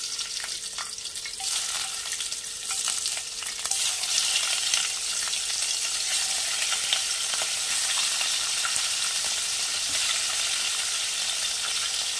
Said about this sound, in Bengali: এই তেলেই আমি মাছগুলো ভেজে নেব